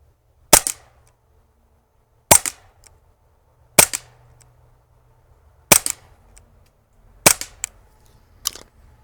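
Five sharp CO2 air pistol shots (4.5mm) at a paper target crack out one at a time, spaced roughly evenly about a second and a half apart, each followed by a faint echo.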